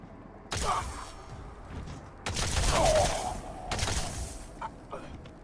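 Gunfire from a shooting sequence in the video game Deus Ex comes in three sharp bursts with lingering reverberant tails, loud and close, with mechanical clanks and thuds mixed in.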